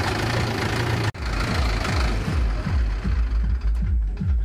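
A tractor engine running with its silencer removed, thumping in loud, rapid, regular low pulses that slow and spread out slightly after a brief sharp dropout near the start, close and unmuffled, with no voices.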